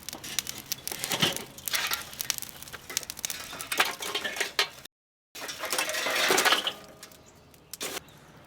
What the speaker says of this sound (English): now that our chimney is good to go, we're gonna dump it on that bed of coal there in the slow and sear